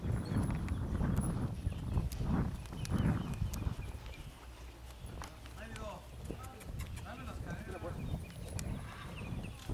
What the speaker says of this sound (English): Pretty athletic kind of horse too.